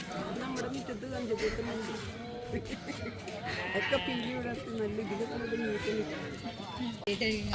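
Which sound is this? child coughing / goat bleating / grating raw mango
goat bleating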